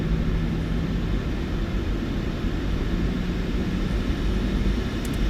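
Jet engines of a PMDG 737-800 spool up for a rolling takeoff in the Microsoft Flight Simulator 2024 game. A constant broad, heavy rumble holds steady and loud throughout, with no voices.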